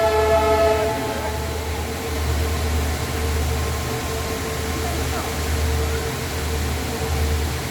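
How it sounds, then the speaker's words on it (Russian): A train runs along a mountain railway in India past a waterfall, heard as a continuous low rumble mixed with rushing water and a fading horn-like tone near the start, with a person speaking faintly. "Поезд идет."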